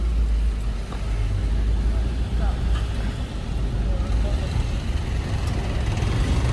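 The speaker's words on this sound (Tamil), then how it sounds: "இப்போ பாருங்க இவ்வளோ டிராஃபிக்" Dense road traffic on the route up to Tirumala, where fresh tar is being laid. Engines rumble steadily and close by, with a voice talking over the continuous din.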